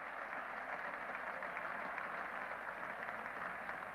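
A 1975 England versus Australia Test match crowd applauding a hooked boundary four: a steady, distant wash of clapping from a large cricket crowd, even and sustained throughout, without speech.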